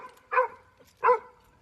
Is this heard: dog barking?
yes